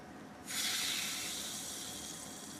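Sulfuric acid from an overflowing lead-acid battery dripped onto a cup of baking soda sets off a sudden loud hiss, then a steady, close fizzing that eases slightly as it continues.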